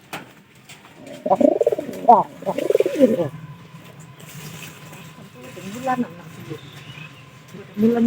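A pigeon coos close by in several rolling, throaty phrases, with pauses between them and a faint insect chirp in the background.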